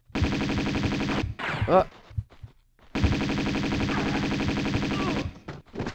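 Rapid, loud Uzi bursts in Tomb Raider II, two long continuous strings of automatic fire separated by a brief pause, with a short exclamation between them.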